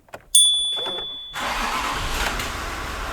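A rebuilt 3.0 TDV6 diesel engine in a Range Rover cranks briefly and catches, settling into a steady, close, loud idle hum. Before the start, a few faint sounds and a high electronic tone are heard.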